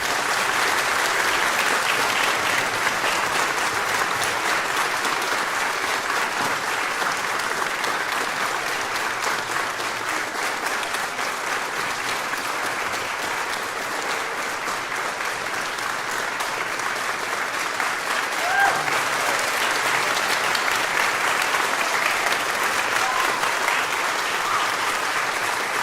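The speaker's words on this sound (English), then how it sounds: "So let's clap for them all." A concert audience claps steadily and loudly for the conductors and collaborative pianists at a children's choir performance, a dense, sustained wash of applause with no break.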